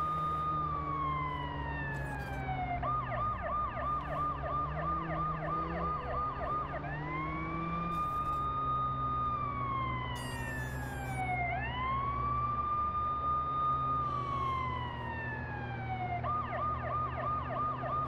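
Ambulance siren in the video game Watch Dogs, a loud continuous wail that cycles through rising and falling sweeps and fast yelping bursts, sounding steadily and close throughout, with no talk.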